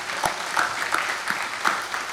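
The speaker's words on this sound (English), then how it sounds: "give yourselves a huge round of applause" A crowd of conference attendees at a Rotary gathering claps in a fairly thin, uneven patter, with a few sharper claps standing out.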